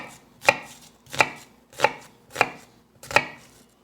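A kitchen knife slices through an onion halved through the root end, cut on a cutting board: five evenly spaced, crisp chops about two-thirds of a second apart, close and clear with no talking.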